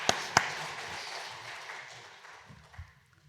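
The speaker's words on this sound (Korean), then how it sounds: "또 우리 환영하는 마음으로 박수로 환영하시면 좋겠습니다" A church congregation at a Wednesday prayer meeting claps in welcome for a visiting pastor, the applause opening with a couple of sharp claps and then thinning and fading away over a few seconds.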